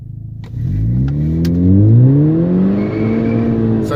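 VW GTI with a turbo muffler delete accelerating hard in S mode, engine note climbing steadily in pitch and staying loud and close for the whole stretch.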